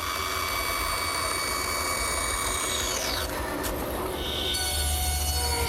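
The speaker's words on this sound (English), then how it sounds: "The easiest way to complete the top and bottom cut of each tenon is at the bandsaw." Bandsaw cutting the top and bottom of a wooden tenon on a desk rail, a steady loud high whine with a shrill blade tone and a rising pitch shift partway through, no voices.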